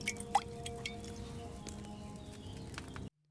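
Ingredients being poured into a potion while brewing in a video game: a run of small wet drips and squishy splashes with faint chimes, over a quiet ambient backdrop, ending in sudden silence.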